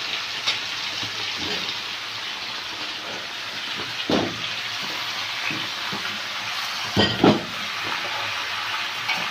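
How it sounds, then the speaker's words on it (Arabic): Onions sautéing in a pan give off a steady, close hiss. Occasional clunks and scrapes from stirring break through, with a couple of louder knocks near the end. "نشوح في دي كده في البصلة كده لغاية ما نشوحها تشويحة حلوة"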